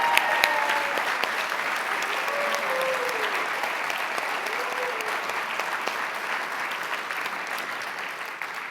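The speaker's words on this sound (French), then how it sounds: "j'aimerais vraiment qu'on l'applaudisse pour toute l'organisation qu'elle fait" Steady, sustained audience applause at a Laval launch event for the International Day of Older Persons, dense clapping filling the whole stretch at even loudness with faint crowd murmur and no voices over it.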